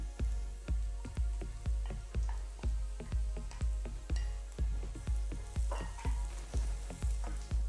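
Onion, carrot, garlic and ginger sizzle in a pan for Chinese fried rice, a steady close frying hiss punctuated by regular rhythmic stirring knocks about twice per second, with no talk.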